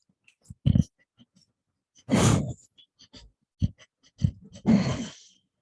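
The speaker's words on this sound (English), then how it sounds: "take a nice deep breath" Deep, slow breaths during a seated yoga session: a few audible inhales and long exhales spaced by quiet pauses, close and soft, with no talking.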